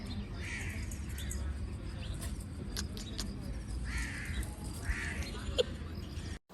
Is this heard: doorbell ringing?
no